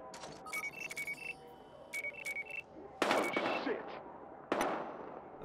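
Bursts of gunfire crack out among quick electronic beeps in Battlefield Hardline, with two sharper, louder shots standing out later.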